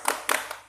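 Quick patterned spirit clapping by a small group in a training session: three short bursts of hand claps, close and moderately loud, with no voices.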